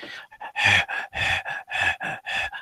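A human voice imitates heavy panting: six or seven loud, rhythmic, breathy huffs in quick succession, close and alone.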